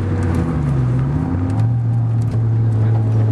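An Audi urS4 braking hard in a straight line on a race track at New Hampshire Motor Speedway in 2010, heard from inside as a loud, continuous engine drone whose pitch dips and settles lower, with no talking.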